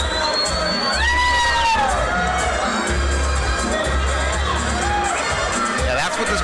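Boxing fight-night crowd roaring and whooping loudly through the last seconds of a round, dense cheering with shrill shouts rising over a steady din, commentary voices mixed in.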